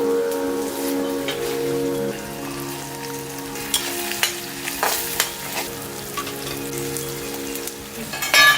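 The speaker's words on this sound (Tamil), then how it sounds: "ஒன்னா போட்டு கிரேவிக்கு வதக்குவோம்." Onions and chopped tomatoes sauté together in a pan as the base for an egg gravy, sizzling steadily with scattered scrapes and clicks of stirring over a constant low hum.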